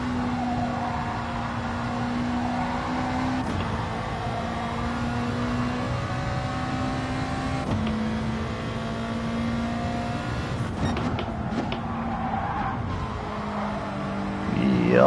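Race car engine in a racing video game, with a Nissan GT-R out on track: a loud, steady engine drone with sharp gear-shift breaks every few seconds and a faint whir under it.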